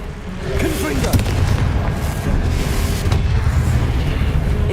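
Confringo explosion spells in a Harry Potter video game go off as deep booming blasts over busy game audio, with voices heard throughout.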